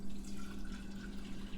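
Steady pouring of liquid into a jar while making sambuca, a continuous watery trickle, fairly close, with a low hum underneath and no talking.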